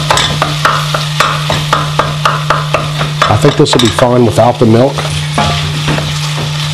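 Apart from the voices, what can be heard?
stirring creamed spinach mixture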